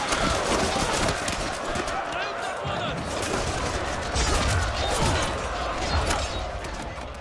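Cannons and gunfire boom and crackle during a Shogun 2 multiplayer siege, with volleys rolling in bursts over a dense battle din, while a voice talks over them.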